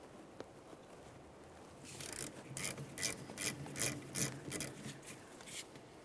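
Close rhythmic scraping and ratcheting as an 11mm wrench works loose the brake hose banjo bolt at the caliper of a 2003-2007 Honda Accord, a quick series of short strokes after a quiet start.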